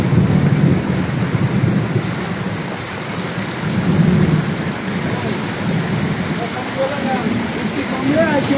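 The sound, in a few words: thunder and heavy rain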